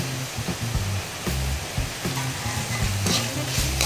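Frog frying in a hot pan in a Khmer kitchen, with a steady loud sizzle and rhythmic scraping stir strokes against the pan about every half second.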